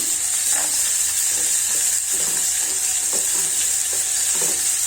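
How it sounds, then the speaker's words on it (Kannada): Onion, ginger and garlic frying in a pan while egg sambar is being made: a steady, close sizzle that runs the whole time, with faint stirring clicks and scrapes and no talking. "ಈರುಳ್ಳಿ ಫಸ್ಟ್ ಹುರ್ಕೊಳ್ಳೋಣ. ಅದ್ರ ಜೊತೆಗೇನೆ ಶುಂಠಿ ಹಾಕ್ಕೊಳ್ಳೋಣ. ಶುಂಠಿ ಮತ್ತು ಬೆಳ್ಳುಳ್ಳಿ 2 ಆ್ಯಡ್ ಮಾಡೋಣ."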